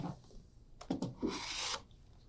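A rotary cutter running along a Creative Grids Ultimate Flying Geese quilting ruler to trim fabric, giving a few short close rasping strokes followed by one longer smooth scrape, then quiet.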